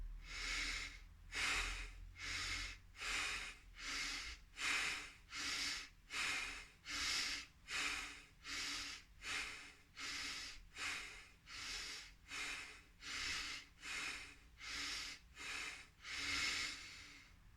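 A pranayama breathing exercise: about twenty forceful, rhythmic breaths through the nose at a steady quick pace, each a loud hissing rush, close and alone with no talking.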